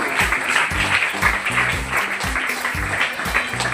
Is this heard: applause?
yes